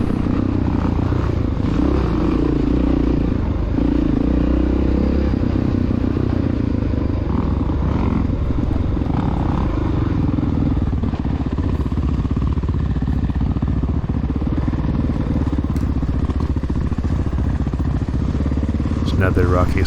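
A 1993 Honda XR600R dirt bike races along a rocky cross-country trail in a Senior C event, its engine roaring close and continuous for the whole stretch, with rattling and clatter over the rough ground and some wind.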